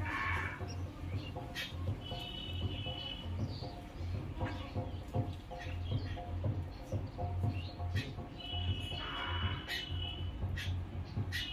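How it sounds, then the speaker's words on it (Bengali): Several small birds chirp and call outdoors among trees, with one bird chasing the others; short high tweets come and go over a steady low rumbling background. "এই দেখো এবার একটা অন্য পাখি আসলো, ওই পাখিটা এসে দেখো অন্য পাখিগুলোকে ধাওয়া করছে কেমন।"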